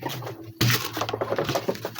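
A pigeon being fed gives soft, low coos close by, with a sharp thump partway through and faint rustling around it.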